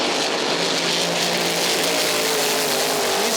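A race car running on a backup engine at a motorsport track gives a loud, continuous engine roar with a slowly shifting pitch that stays at full level throughout, with no talking.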